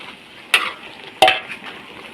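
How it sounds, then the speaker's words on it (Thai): Luffa stir-fried with pork and fresh chili in a big wok, two sharp scraping clatters of a spatula over a faint sizzle. "ผัดบวบกระทะใหญ่เลยจ้ะ เป็นบวบหอมผัดใส่หมูใส่พริกพริกสด"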